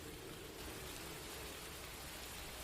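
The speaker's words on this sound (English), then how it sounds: "and the rain actually gets heavier." Heavy rain falls as a steady, dense wash of noise, faint and unbroken throughout.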